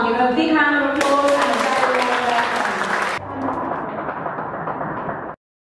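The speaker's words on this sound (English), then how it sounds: "Give him a big round of applause." Applause breaks out for a CEO at a business event. Loud, dense clapping swells over a musical tone, then continues somewhat softer before cutting off abruptly.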